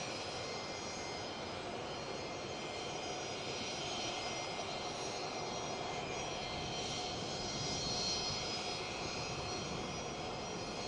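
A loud, steady roar of a jet airplane fills the whole stretch, swelling slightly toward the end as the aircraft touches down at an airport in Qingdao.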